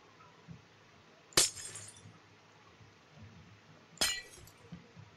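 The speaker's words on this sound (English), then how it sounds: "And then I'm just gonna cover this here with glass." Glass blocks are placed in Minecraft, giving two sharp, bright glassy clinks spaced a few seconds apart, each with a short ringing tail over a faint background.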